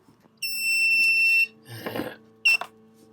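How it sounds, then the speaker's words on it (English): An egg incubator's low-temperature alarm beeps in a long steady tone, followed by a short rustle and a second brief beep, in a quiet room. "let's hope that's just beeping at me to tell me that temperature's low"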